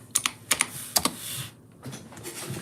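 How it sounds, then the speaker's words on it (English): Keys clatter on a computer keyboard in a few quick clustered taps, then softer scattered presses follow, close by and with no talk. "I'll just type in Russia right now."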